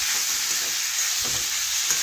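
Papaya pieces fry with ginger, cumin and spices in a pan while being stirred, a steady close sizzle broken by soft scraping stir strokes.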